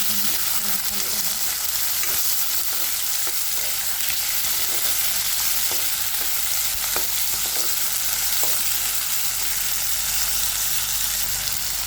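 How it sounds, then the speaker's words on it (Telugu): Ivy gourd (tondakaya) and onions fry in a pan with a steady, dense sizzle and occasional soft stirring scrapes, continuous and close throughout. "ఫ్రై అయ్యాయి ఆనియన్స్ అయితే దొండకాయ"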